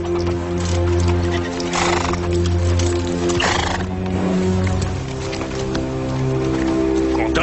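Horses whinny and neigh loudly in several bursts while hooves clip-clop and harness jingles nearby, with voices talking over the scene.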